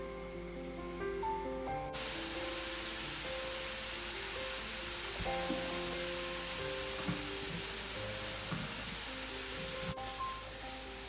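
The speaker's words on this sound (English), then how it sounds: "first we need to boil the milk" Milk heats in a pan on the stove for kalakand, a steady soft hiss and bubbling sizzle that jumps up after a couple of seconds and holds evenly, with faint tonal hum underneath and no talking.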